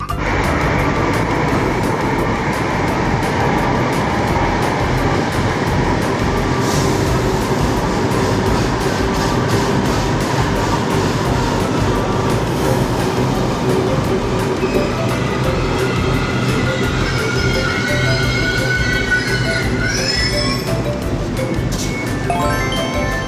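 Steady rumble of a light rail train in motion, continuous and loud, with rhythmic clatter and occasional high squeals of wheels toward the end.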